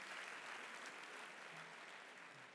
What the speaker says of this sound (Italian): Facciamo un applauso a In-N-Out.